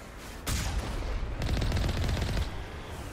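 Rapid automatic gunfire in Mass Effect Legendary Edition, a sustained loud burst of shots after a short lull, then another dense rattling volley that cuts off, with no talk over it.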